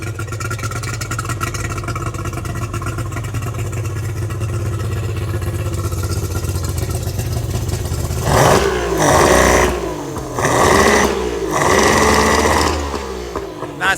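A Tohatsu 50 outboard motor with a rebuilt carburetor runs at a steady buzzing idle, then revs up in three loud rising surges with dips between, rough and straining, close by and without talk.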